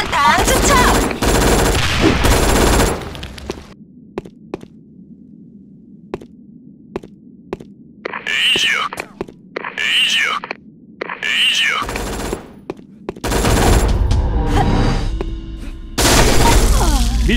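Gunfire in the online shooter Sudden Attack: loud automatic bursts open and close the stretch, with scattered single shots and several rhythmic blasts in a quieter middle, and heavy booming fire near the end.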